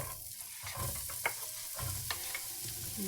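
Chopped onion and garlic fry in a pan, a soft steady sizzle with a few light clinks and stirring scrapes, close by and fairly quiet.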